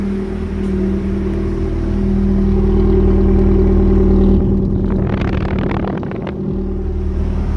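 A 1988 Honda Civic engine idles close by, a steady low rumble with a slight swell in the middle and a brief rougher patch near the end, with no voices over it.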